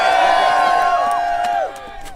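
A large crowd at the United We Roll rally on Parliament Hill in Canada cheers and whoops loudly, with overlapping shouts rising and falling before the noise eases toward the end.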